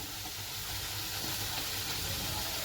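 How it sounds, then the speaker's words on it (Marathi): Masala frying in a pan for a drumstick pod curry, a soft continuous hiss and sizzle heard close and fairly quiet, with faint stirring and no voices. "आता ना मी मसाला परतून घेतलाय"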